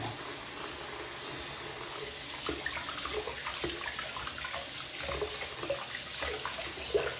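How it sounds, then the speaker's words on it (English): Tap water runs steadily while a 1970 Challenger T/A model kit body is rinsed at a sink, a continuous close splash with small clinks and shifts of the plastic under the stream, no talk. "Lots of rinsing. Lots and lots of rinsing."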